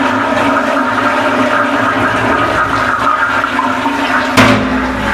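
A western commode toilet flushes in a newly plumbed house, a steady loud rush of water running throughout with a brief sharp clunk near the end.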